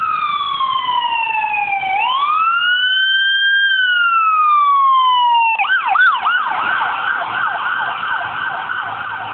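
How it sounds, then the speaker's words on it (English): An ambulance siren blaring up close with a long rising and falling wail that switches to a rapid yelp pattern, loud and continuous throughout. "Everybody's all nice and they let the ambulance go through the red light."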